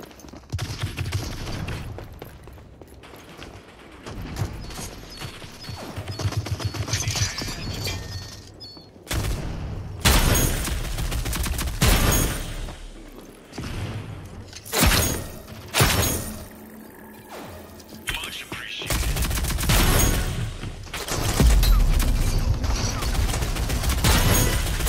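Rapid bursts of video game gunfire crackle and boom in dense volleys, loud and close, with heavy impacts and shattering hits layered through a chaotic firefight.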